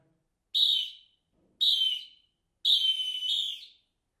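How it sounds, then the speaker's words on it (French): A referee's final whistle: three sharp, shrill blasts, two short ones, then a longer final blast, clear and alone in silence. "sifflet final."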